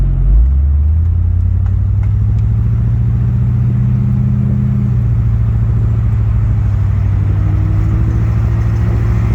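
A 1970 Buick Electra 225 Custom Convertible cruises along with a steady, loud low engine rumble that rises slightly in pitch as it picks up speed, continuous throughout with no talking.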